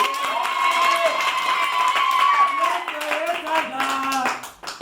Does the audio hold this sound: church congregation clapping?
yes